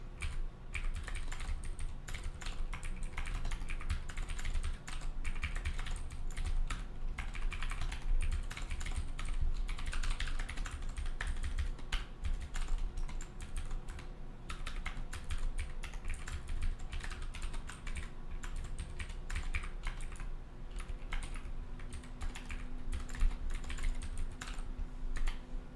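Typing on a computer keyboard, with quick, continuous key clicks in irregular bursts, close and fairly quiet and heard on their own without talk.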